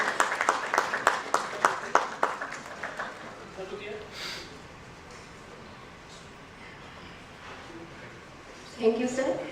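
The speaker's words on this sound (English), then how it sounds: "So a big round of applause for" A few seconds of rhythmic clapping from an audience at a World Standards Day event, fairly close and moderately loud, fading out into quiet room tone before a brief voice returns at the end.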